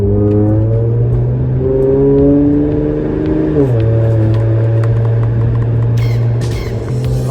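Car engine and mufflers from inside the cabin, a loud, close low drone that rises, then drops pitch as the gear shifts, and settles into a steady cruising hum, with no talk.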